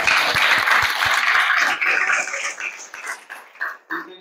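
A room of schoolchildren at a village primary school claps loudly for their teacher and guide, the applause dense at first and then thinning into scattered claps before fading out.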